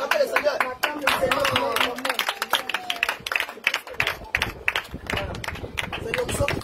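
A church congregation at a revival seminar applauding and cheering, dense rapid clapping with excited voices mixed in, loud and close throughout.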